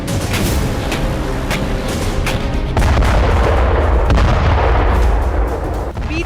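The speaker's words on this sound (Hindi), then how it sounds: "इस धमाके की गूंज अब सैकड़ों धमाके बनकर पूरे यूक्रेन में सुनाई दे रही है" Missile strikes and explosions during a Russian attack on Ukraine: repeated heavy booms and blasts in rapid succession, loud and reverberant, with no speech.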